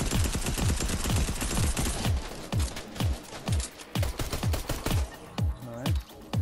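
Repeated heavy gunshots in a shooter video game, a pump shotgun among the weapons, booming in close succession at first, then spaced single blasts at roughly half-second intervals, loud and close.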